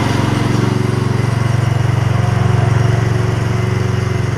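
A Gravely 16 professional walk-behind mower engine runs close and loud with a steady, rapid, even chugging pulse that holds throughout.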